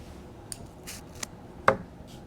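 A few quick, crisp snips of scissors trimming a paper sunflower craft, spaced apart and fairly close, with a soft rustle of paper between cuts.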